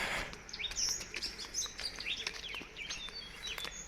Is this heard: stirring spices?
no